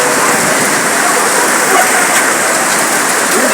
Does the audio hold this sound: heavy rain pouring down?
yes